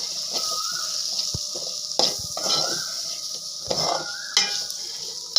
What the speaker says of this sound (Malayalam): മസാലയൊക്കെ ഒന്ന് മൂക്കട്ടെ.